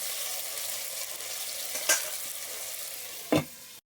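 Vegetables sizzle steadily in a hot covered pan, a continuous frying hiss broken by two brief stirring clinks.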